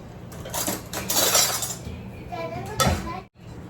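Wheat extract for kurdai is stirred in a metal vessel, giving light scraping and clinking of a utensil against the pot, close and moderately quiet, with someone speaking over it.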